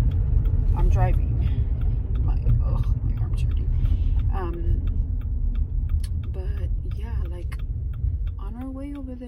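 Steady low road rumble inside a moving car, filling the whole stretch beneath someone talking throughout.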